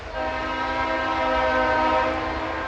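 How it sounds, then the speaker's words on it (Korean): A passing train sounds a long, steady, loud horn chord over the rumble of the rail cars, holding for the whole stretch. "그때 기차가 나타났고요"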